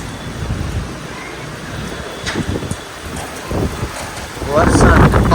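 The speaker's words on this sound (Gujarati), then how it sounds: "પવન ને બધું ભેગું હોય" Strong gusty wind roars and buffets the microphone, with rain in the background and someone talking, growing louder toward the end.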